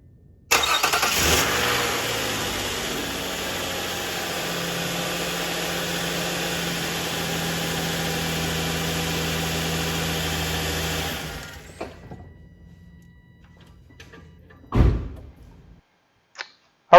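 A 2008 Nissan Quest with its 3.5-liter V6 cranks and fires after a serpentine belt replacement, then settles into a steady, close idle hum for about ten seconds before shutting off, followed by a few faint knocks.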